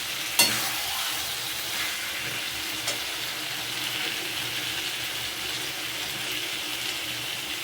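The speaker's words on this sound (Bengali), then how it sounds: "ভালো করে আলুগুলোকে দিয়ে মশলা কষাতে হবে যতক্ষণ না আলু নরম হচ্ছে।" New potatoes stir-fried with spices in a pan give a steady soft sizzle, broken by a few sharp scraping clicks of the spatula against the pan, close and moderately loud, with nobody speaking.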